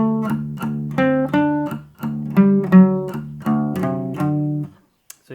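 An unaccompanied guitar plays a riff, a run of distinct plucked notes and chords with a steady rhythm, close and clear, ending in a short pause and one last faint pluck.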